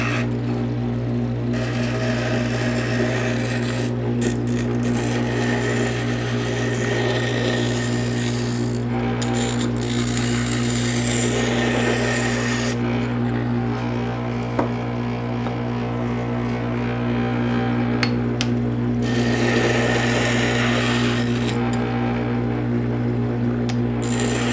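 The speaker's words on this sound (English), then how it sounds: "you just want a glass grinder to move things ahead much quicker" A glass grinder works glass pieces with a steady motor hum and bright, gritty grinding that swells and breaks off several times as the pieces are pressed to the bit and lifted away.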